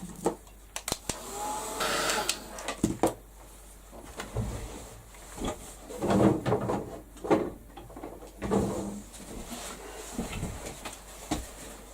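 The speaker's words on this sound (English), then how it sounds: "I'm just going to give it a quick blast with the heat gun" A heat gun blows steady hot air over a crafted journal page, a continuous roaring hiss that swells and fades in bursts over about twelve seconds, with scattered clicks and handling knocks and no talking.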